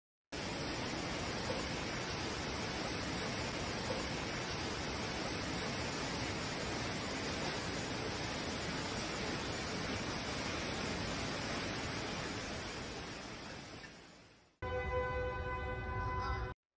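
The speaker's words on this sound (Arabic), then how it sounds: "تحول هذا الجسر إلى شلال" Water pours off a bridge like a waterfall, a dense, loud, steady roar that fills the clip unchanged, then drops out abruptly before a short burst of different noise at the end.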